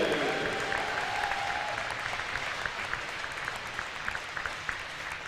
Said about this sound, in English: Big round of applause here.